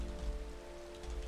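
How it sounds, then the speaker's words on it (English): Rain falls steadily in the Minecraft video game, a soft, even patter and hiss heard quietly and alone, with no speech over it. "this rain is giving me a bit of frame rate lag"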